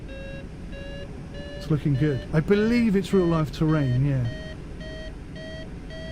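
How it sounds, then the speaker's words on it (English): A vertical lift warning buzzer in a glider simulator game sounds as a steady series of evenly spaced electronic beeps, carrying on while someone talks over the middle. "The warning buzzer is to indicate whether or not I'm getting vertical lift or not."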